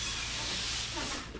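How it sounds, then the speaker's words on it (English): Garden hose spraying water across a Blackstone griddle to rinse off grime, a steady close hiss of spray running without a break. "They rinse it off with the old garden hose, you know, get some of the grime off"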